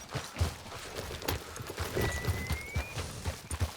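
Horse hooves clip-clop in Red Dead Redemption 2, a steady rhythmic walking beat of dull thuds, close and even throughout.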